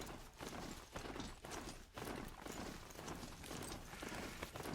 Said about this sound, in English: we're on a robot horse.